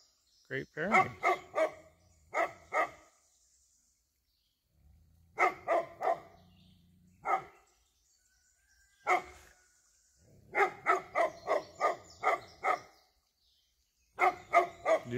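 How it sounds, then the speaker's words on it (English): A dog barks repeatedly in loud, close bursts of several quick barks, with short pauses between the volleys. "You're just going to stand there and bark?"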